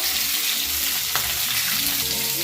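Fish frying in a pan for a Bengal-style tangra recipe, a steady close sizzle and crackle of oil that holds throughout with no talk.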